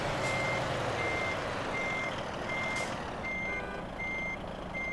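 A DAF truck in Euro Truck Simulator 2 sounds its reversing alarm: evenly spaced, high electronic beeps repeating steadily over a constant low engine rumble.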